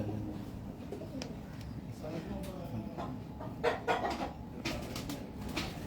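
Soft pigeon coos and rustling in a loft mixed with faint chatter, a steady murmur of birds close by with occasional louder bursts.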